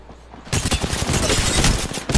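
Apex Legends gunfire breaks out after a short quiet lead-in as a dense, loud, continuous barrage of rapid shots filling the rest of the moment, with no talking.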